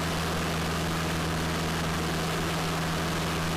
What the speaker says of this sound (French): Écoutez, votre moteur, il surrévolutionne.